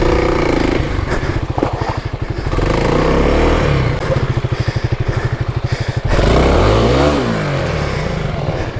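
A 2021 Kawasaki KLX300 dirt bike on stock tires working over a rough off-road trail: a close, loud, pulsing single-cylinder engine that throttles up and down in repeated surges, with brief lulls and bumps between bursts.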